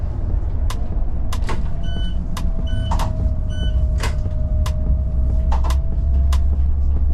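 A Ukrainian Electron bus driving along a bypass road, with a constant loud low engine and road rumble, a steady whine and repeated sharp clicks and beeps from the cab, no talking.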